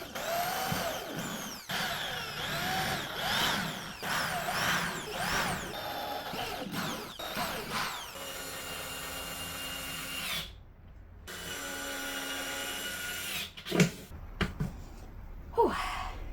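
A power drill bores into an Ikea nightstand through a drill guide, whining in rising and falling bursts, then settling into a steady high whir that stops and starts, with brief clicks and rustles between runs.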